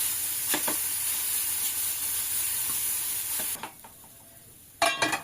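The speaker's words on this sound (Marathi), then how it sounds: "परतून घेऊया" Grated amla and ginger sautéing in a pan, an even hiss of frying that drops off partway, then a couple of scraping stirs, close and moderately loud, without speech.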